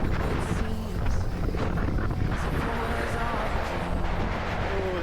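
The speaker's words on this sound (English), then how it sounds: "Oh, that warm wind, I feel it." Loud, steady wind rush buffets the microphone while riding a KOOZ MOTOTECH 72V 8000W electric motorbike in warm weather, a continuous roar with no breaks.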